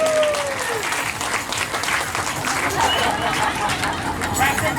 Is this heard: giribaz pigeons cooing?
no